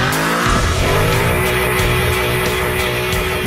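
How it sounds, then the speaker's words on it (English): A Ford Mustang does a burnout, a loud, sustained engine roar layered with a continuous high tire squeal, close and unbroken throughout. "Whether it's squealing its tires on a burnout"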